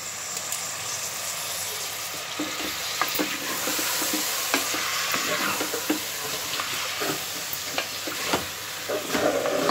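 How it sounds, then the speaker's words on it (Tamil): Chopped tomatoes for chicken biryani frying in a pan, a continuous bright hiss with scattered scraping and clinking of the stirring spoon throughout, fairly close and even in loudness. "தக்காளி நல்லா குக் ஆகட்டும்."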